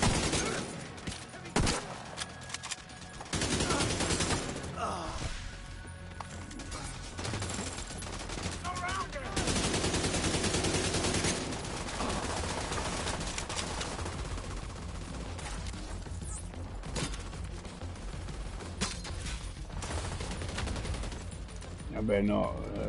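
Sustained automatic gunfire crackles through a firefight in The Division 2, loud volleys and rapid shots running almost continuously, with people talking over the shooting.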